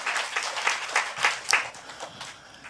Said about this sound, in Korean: 우리 하나님께 감사의 박수 올려드리는 저와 여러분 되시면 좋겠습니다.